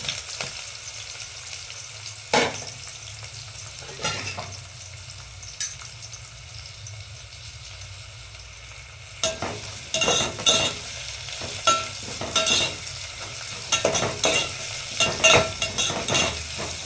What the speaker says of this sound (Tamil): வெங்காயம் போட்டு நல்லா ப்ரௌன் கலரில் வதக்கி எடுத்துக்கலாம்